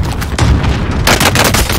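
Gunfire from the Call of Duty Warzone video game comes as loud, dense bursts of shots and booms filling the short clip, with no talking.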